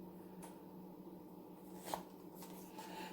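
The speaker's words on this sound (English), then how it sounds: "Sometimes it takes me a little longer than usual to shuffle for the clarifiers" Tarot cards shuffled by hand at close range, a soft continuous riffling and sliding of card stock with one brief louder snap partway through, alone without talk.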